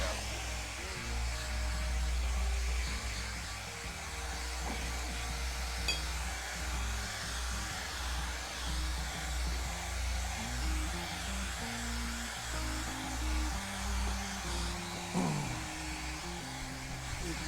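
A hair dryer blows steadily at close range, a constant whooshing hum that fills the whole stretch with little change.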